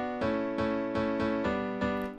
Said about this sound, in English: This is the piano 1.